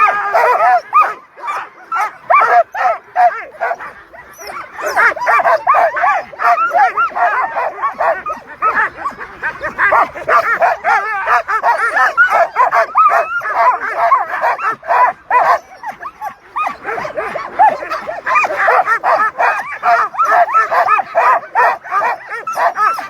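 Sled dogs bark and yip in a dense, continuous chorus close by at the start of the Knik 100 race in Alaska. The noise eases briefly before the pack picks up again, and a voice can be heard faintly under it.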